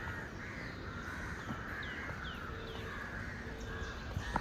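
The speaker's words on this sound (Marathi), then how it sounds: "इथंच फक्त तुम्हाला पक्ष्यांचा आवाज ऐकायला भेटेल कारण की कसं ही जंगल आहे" Birds call through a forest on Malabar Hill in Mumbai, with crow-like caws and a few thin chirps rising over a steady, hissing background, fairly distant and scattered.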